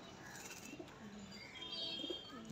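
Pigeons in a high-flying pigeon loft give soft, low coos. The sound is faint and fairly distant over a quiet background hum.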